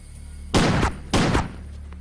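Gunfire in an Indian action film scene where rival thieves shoot it out over ransom money outside: two heavy, loud bangs roughly half a second apart, each with a short ringing decay, with no voices.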